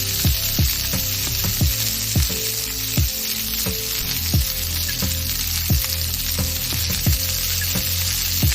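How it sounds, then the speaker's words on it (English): Beef deep frying in heavily reused oil: a loud, dense, continuous sizzle and crackle, close up, with regular sharp metallic scrapes or taps against the pan repeating roughly every half second, no voices. "we proceed to ready a batch of recycled oil that has been used for 5 years to deep fry the beef"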